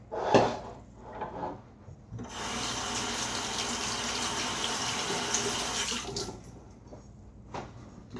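Water runs from a sink tap while shaving soap is rinsed off, a steady hiss lasting several seconds, framed by a few clunks and handling knocks before and after, quiet and close.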